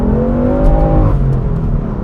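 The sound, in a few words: car engine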